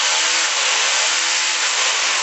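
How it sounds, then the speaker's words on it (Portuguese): A rotary hammer drill runs steadily and loudly for a couple of seconds, a dense continuous mechanical whir with no one speaking. "Martelete com a furadeira,"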